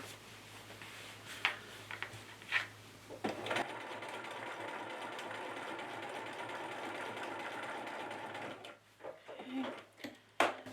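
A sewing machine stitches gathering stitches on an Edwardian camisole, running steadily for several seconds after a few clicks and handling sounds, then slowing to a stop with light taps near the end.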